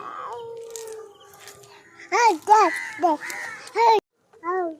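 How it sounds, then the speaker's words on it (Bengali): A crow gives a run of about five harsh, close caws in quick succession after a stretch of quieter voice-like sound. "কাক ডাকছে"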